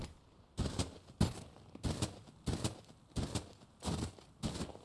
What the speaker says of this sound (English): So I just want to get rid of someone who's shooting at me.